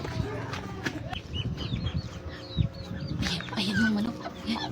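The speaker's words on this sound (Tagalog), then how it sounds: "Ayun, chicken!" A chicken clucks close by in a household yard, repeated short clucks with one louder squawk near the middle, over a busy background of other sounds.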